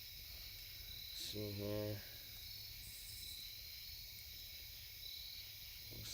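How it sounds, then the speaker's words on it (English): Crickets chirp steadily as a high, thin background trill, faint and continuous outdoors on a lawn, while someone speaks briefly up close. "I don't know if you guys can hear the crickets"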